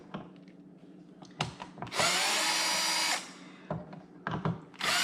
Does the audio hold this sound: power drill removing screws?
yes